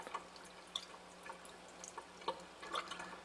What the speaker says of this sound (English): We'll rinse the test tube out